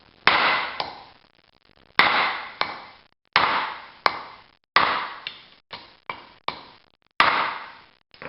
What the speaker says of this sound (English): I'll just start pounding this with a small sledgehammer